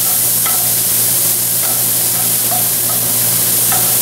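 Pancetta fries in a pan with a loud, close, constant sizzle, broken by a few light scraping strokes as it is stirred.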